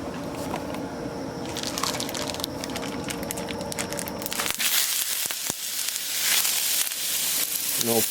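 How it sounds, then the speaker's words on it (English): Bacon strips sizzle on a Camp Chef FTG600 flat top grill, a close, steady hiss of frying fat with crackles and pops, turning brighter and busier partway through as more meat hits the griddle. "And we're going to go ahead and put the bacon on."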